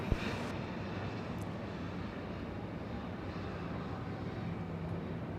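An airliner arriving on runway 26 right at Atlanta airport, a broad steady engine roar with no distinct peaks, sustained and fairly distant, with no voices.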